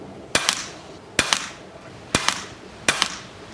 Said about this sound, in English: trying to shoot a sluggy through this barrel